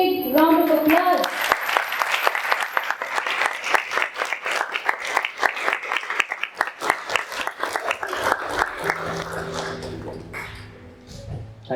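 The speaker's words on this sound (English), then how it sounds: "Let us now welcome our founder on stage with a big round of applause." A university auditorium audience gives a sustained round of applause welcoming a founder on stage, dense clapping that swells and then slowly thins out, with a few voices and stray noises underneath.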